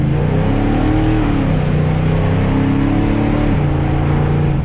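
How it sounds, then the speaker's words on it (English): A 1971 Chevelle with a 396 big-block truck engine, revived after sitting for about twenty years, roars loud and close. It revs up and down in sustained swells, with a deep, rough rumble throughout. "This has got the 396 big block truck motor, babe."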